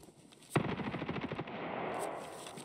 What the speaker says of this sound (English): Loud M4.